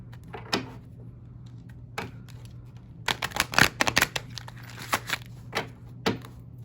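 Angel Answers oracle cards are shuffled in soft, irregular riffling bursts, with scattered taps and a low steady hum underneath.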